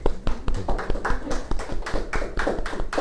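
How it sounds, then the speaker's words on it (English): A small group claps together in sharp, fairly regular strokes close by, a steady patter that runs alone for about three seconds. "Everybody clap."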